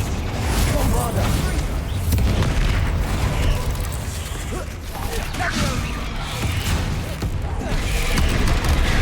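Loud, dense booming blasts from a Bombarda spell in Hogwarts Legacy, continuous and rumbling throughout, with a voice speaking over the explosions.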